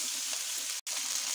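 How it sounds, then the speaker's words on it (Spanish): Two julienned onions sizzle and fry steadily in a pan for a Zamora-style cod dish, a continuous close crackle with one very brief silent gap midway. "ahora añadimos la cebolla. Dos cebollas hermosas cortadas en juliana. Venga, las vamos aquí a pochar bien"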